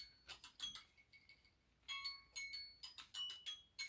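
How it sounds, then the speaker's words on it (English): A phone alarm rings quietly in repeated bursts of bright, high electronic tones, pausing briefly before starting again, alone without talk. "Oh, that's my alarm."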